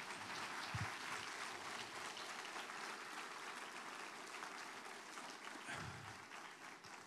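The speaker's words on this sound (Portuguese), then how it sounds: "vamos aplaudir essa equipe linda aqui" A church congregation claps for a team during a service, a faint, distant, steady patter of many hands lasting several seconds without speech.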